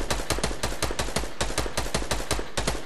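Rapid automatic gunfire in Fortnite, a fast even burst of sharp shots repeating steadily for about three seconds, loud and close with no talking.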